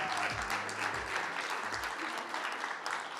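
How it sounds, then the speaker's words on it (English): Audience applause at a 24-hour movie race film event, steady clapping throughout with a few low thumps near the microphone. "All right, round of applause."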